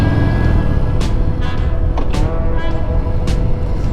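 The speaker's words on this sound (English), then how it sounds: "Oh yeah, HD sounds good in the tunnel" Harley-Davidson motorcycle engine rumbling loud and steady inside a narrow rock tunnel on Needles Highway in the Black Hills, South Dakota, a deep continuous drone with reverberant echo and occasional sharper bursts.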